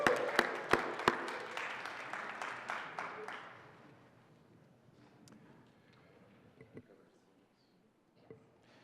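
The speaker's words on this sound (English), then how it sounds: "I think we should all give a round of applause to Jama." A round of applause in the Colorado Senate chamber, several seconds of sharp clapping that fades out, followed by quiet room noise and a few scattered knocks.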